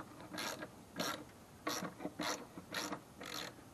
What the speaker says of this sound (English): let's see if any of these bolts will break free.